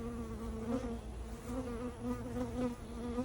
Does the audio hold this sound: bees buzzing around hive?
yes